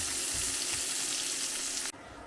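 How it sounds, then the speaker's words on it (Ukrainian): Onions sizzle steadily in hot fat with a dense, bright hiss that cuts off abruptly near the end, leaving quieter background. "Цибулю будемо смажити до золотистого кольору."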